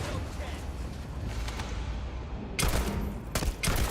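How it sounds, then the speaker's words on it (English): Gunfire from a slow-firing gun in the Starfield game cracks out in a few loud, widely spaced shots near the end, over a rumbling background of game noise. Faint talk is present beneath. "Oh, it's a slow shooting gun"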